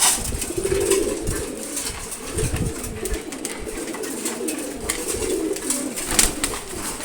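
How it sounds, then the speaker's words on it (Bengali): Domestic pigeons cooing at a pigeon farm: a continuous, overlapping chorus of low, throaty coos from several birds, close by and fairly steady throughout. "এবার অন্য কবুতরগুলো দেখাই"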